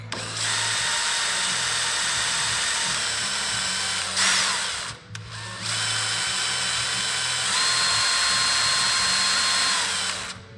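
A power drill whines steadily at close range while drilling aircraft tail kit parts, briefly stopping and restarting midway, then running on with a high, continuous motor pitch.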